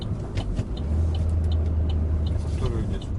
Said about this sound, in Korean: 지금 제가 엔진 브레이크로 감속해서 원 클러치로 싱글 클러치로